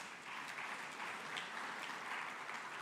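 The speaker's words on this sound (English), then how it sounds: "the NDLEA officers really deserve another round of applause" Sustained audience applause for NDLEA officers at an event against drug abuse and illicit trafficking, a moderately distant, even wash of clapping that holds throughout.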